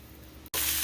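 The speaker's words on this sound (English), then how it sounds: "those hash browns are on and they are sizzling" Hash browns frying in a hot pan give a loud, steady broadband sizzle that starts abruptly after a brief gap and continues alone.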